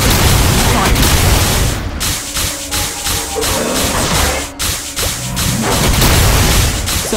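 Dense video game combat audio with a particle accelerator weapon firing in MapleStory: loud, continuous booming blasts and crashing impacts overlap with whooshing effects throughout, with brief dips between volleys.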